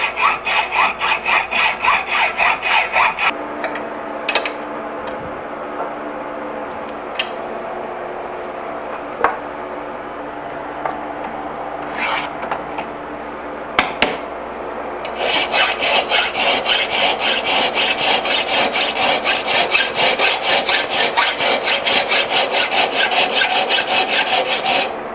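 A hacksaw fitted with a 14 teeth per inch blade cuts metal in rapid rhythmic back-and-forth strokes during lugged bicycle frame building, pausing midway with a few scattered clatters before the steady sawing resumes.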